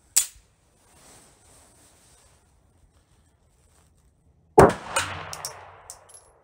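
Two sharp gunshots from a 32 ACP pistol firing 71-grain factory ammunition, one at the very start and another about four seconds later with a ringing tail and metallic clinks, heard outdoors at a range.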